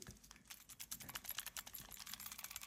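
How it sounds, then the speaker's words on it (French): Quiet, rapid plastic clicking from a button on a Nintendo controller, pressed repeatedly in a steady, fast rhythm, close up with no talk. "on a donc ce bouton-là qui clique"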